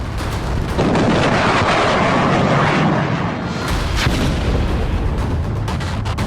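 Cluster bomb blasts in Israel roll out as a sustained, loud, rumbling roar of overlapping booms with dense crackling bursts, fading slightly midway before more sharp impacts follow.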